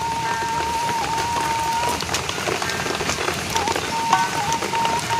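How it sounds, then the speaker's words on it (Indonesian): Steady rain patters on a surface around an open hut during outdoor cooking, a dense continuous hiss with a faint tonal whine running through it. "Walaupun hujan turun,"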